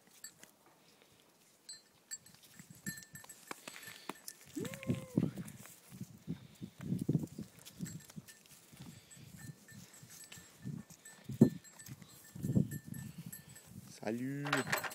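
Sheep on a farm bleat in short intermittent calls, close by, against low outdoor rustling and shuffling, with a person speaking between the calls.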